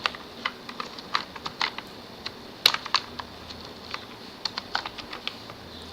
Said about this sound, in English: we're doing a lot of typing